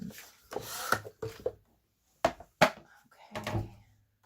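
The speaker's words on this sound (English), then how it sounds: "I'm going to trim 1/4 of an inch off of the left side" A paper trimmer cuts cardstock in several short separate strokes, close and dry, sliding scrapes with pauses between them, and no talk.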